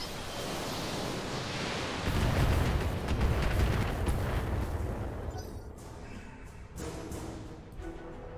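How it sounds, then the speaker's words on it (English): A barrage of LRM missiles slamming into a target in the mech combat game Battletech, a dense, roaring wash of overlapping explosions that swells loudly after a couple of seconds, then rumbles on and gradually thins out. "We're just gonna throw LRMs at him."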